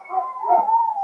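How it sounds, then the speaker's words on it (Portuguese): Dogs giving a single sustained howling whine, close and fairly loud, lasting about a second with no speech. "Meu Deus, deu uma loucura nos cachorros agora."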